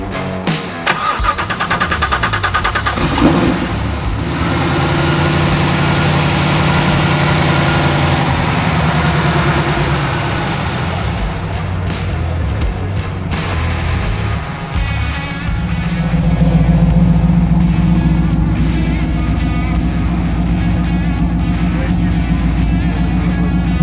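A Chevy engine fitted in a Ford runs at a car show, a loud, steady, rumbling idle that is close and continuous throughout. People talk nearby over the engine.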